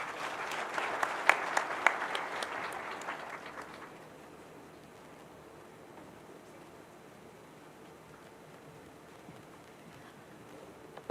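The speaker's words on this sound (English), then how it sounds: "Please, another round of applause as the Zahara team exits the stage" An outdoor summit audience at Uhuru Gardens in Nairobi applauds a team leaving the stage; the clapping is distant and fairly faint, lasts about four seconds, then fades into low ambient crowd noise.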